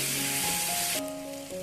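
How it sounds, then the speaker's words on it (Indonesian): Seasonings frying with lemongrass and kaffir lime leaves in a pan while being stirred, a loud broadband sizzle that drops away abruptly partway through, with faint tonal hums underneath. "Lalu ini kita aduk-aduk sebentar supaya bumbunya itu benar-benar matang."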